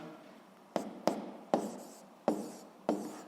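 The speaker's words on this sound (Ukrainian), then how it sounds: "Ну що ж, записуємо відповідь, пишемо відповідь" Pen writing by hand on paper while an answer is written out for a seventh-grade physics problem, with five sharp strokes, each trailing into a soft scratching drag, close and fairly quiet with no talk.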